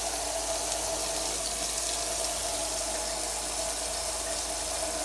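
Tap water pours steadily and loudly into a kitchen sink that has a garbage disposal, a continuous close-up rushing gush with no break.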